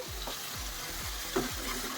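Garlic paste sizzles in hot oil, with a spoon scraping through it in regular strokes about every half second.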